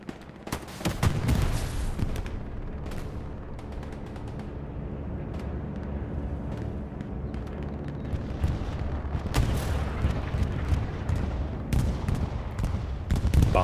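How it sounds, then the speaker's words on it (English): Bombing-run explosions in the World War II video game Hell Let Loose, Battle of Foy: a continuous barrage of heavy booms and gunfire rumbling for over ten seconds, with sharper blasts near the start and toward the end. "Bombing run on its way"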